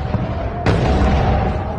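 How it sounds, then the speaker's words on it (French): A sudden loud boom from a missile attack explosion over a large Israeli city, a sharp broadband blast that then rolls on as sustained rumble above a steady background hum. "Les sirènes d'alerte et les explosions hier soir au-dessus des grandes villes israéliennes."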